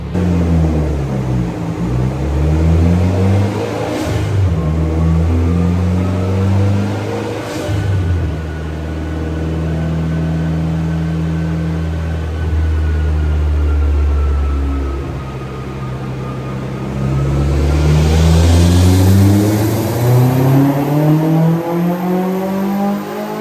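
A flex-fuel Mitsubishi Evo X on a dyno runs hard and loud, its engine note climbing and falling through several long sustained pulls with strong low harmonics and a whining rise near the end.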